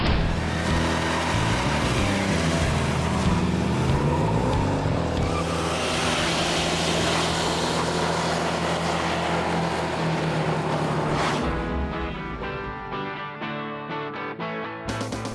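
The big block V8 of a 1968 Shelby GT500 KR convertible gives a loud, continuous, close rumble and roar that swells and then eases toward the end.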